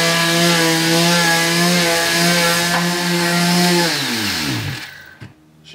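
Loud droning motor of a floor sander grinding steadily on parquet, then winding down with a falling pitch until it stops.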